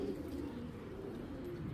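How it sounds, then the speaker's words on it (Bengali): Soft, low cooing from a Napta pigeon, faint and steady, with no talking over it. "এটাও কিন্তু সাপচিলা নাপ্তা কবুতর"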